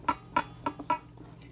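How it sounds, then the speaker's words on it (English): Dry ingredients for banana nut bread are whisked in a bowl, giving four or five sharp metallic clinks against the bowl in an uneven rhythm, close and fairly soft, then a quieter tap near the end. "Whisk those together so we'll have all of our dry ingredients together."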